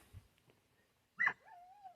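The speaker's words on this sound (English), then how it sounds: "That's my dog in the background." A dog whimpers indoors behind a quiet room, giving one brief whine followed by a rising, drawn-out whimper, faint and set well back.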